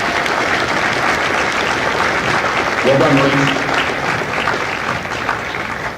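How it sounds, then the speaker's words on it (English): Dense, loud crowd applause fills a Marine Corps recruit graduation ceremony for Fox Company at MCRD San Diego, honoring recruiters and combat instructors, with a voice speaking briefly over the steady clapping. "a round of applause for our recruiters and our combat instructors"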